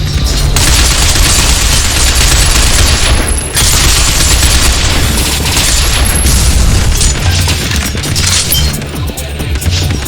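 Dense, loud gunfire and booming impacts from the Binary Domain video game, a continuous barrage of shots and crashes with no pauses.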